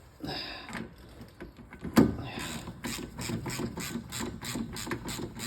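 A ratchet turns the nut off a VL Commodore brake disc, with a run of quick, close mechanical clicks following one sharp metallic knock, and faint background noise throughout.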